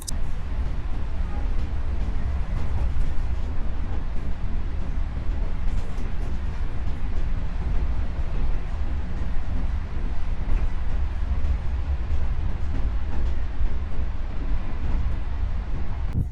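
Inside the KA Bangunkarta passenger train, New Generation carriages, running between stations in East Java: a constant loud low rumble and rolling roar of the moving train with wind noise, steady throughout and no talking.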